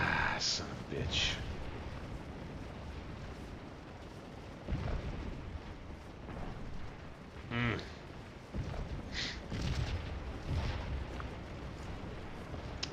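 Booming artillery and crackling musket gunfire in Scourge of War, a Civil War battle game, break out in repeated bursts over a steady battlefield rumble, with someone talking over it.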